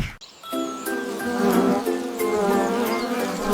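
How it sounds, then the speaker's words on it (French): Steady buzzing of bees, a dense droning hum with layered tones, close and continuous throughout, no voices. "petites abeilles ont commencé à bourdonner"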